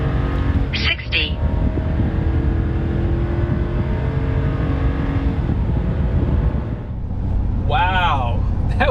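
A 2024 Chevy Silverado 3500 pickup with the L8T gas V8 accelerating from 0 to 60, a steady loud engine drone with a rising roar and a gear change near the end, as someone talks over it.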